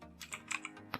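Keys clack on a computer keyboard while a command is typed at a Windows 10 command prompt, several quick, close taps with a louder stroke near the end, no voices.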